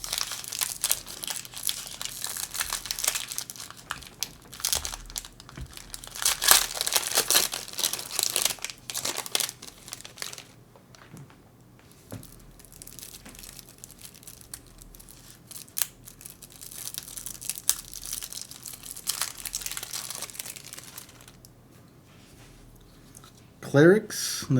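Magic: The Gathering Foundations Jumpstart booster packs being torn open, with bursts of crinkly foil wrapper rustle and tearing, loud and close, spread through the stretch alongside faint handling noise.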